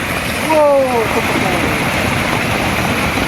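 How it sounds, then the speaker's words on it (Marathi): A small waterfall swollen by the first monsoon rain in the Konkan rushes steadily nearby, with a brief voice near the start. "आता आमच्या शेळीतलं मिनी धबधबो"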